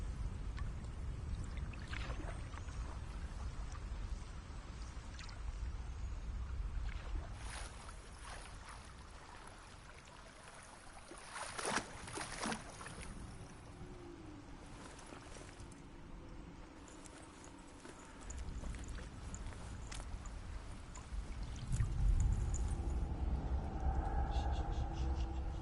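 Steady flowing river water with a rumbling, pouring wash and occasional knocks of a boat, continuous and fairly close throughout, set in the game Hellblade: Senua's Sacrifice, with someone talking over it at times.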